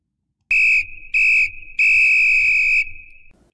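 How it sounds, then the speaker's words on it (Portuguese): A loud, shrill whistle sounds three times, two short blasts and then a longer sustained one, close and piercing against silence. "Agora vamos ouvir um outro exemplo de som agudo, o do apito."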